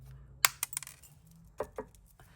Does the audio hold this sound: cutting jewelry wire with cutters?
yes